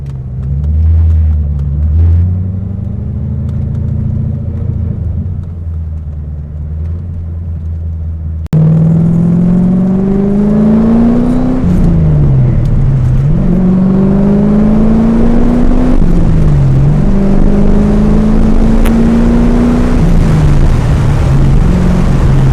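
A Chevrolet Corvette C5 Z06 V8 heard from inside as it accelerates: a deep low engine drone that bursts into a louder, rising roar, climbing through gears with brief dips between shifts.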